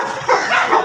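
Several dogs bark and yip at close range in a busy bird market during a dog fight, with a few loud overlapping bursts over steady crowd noise.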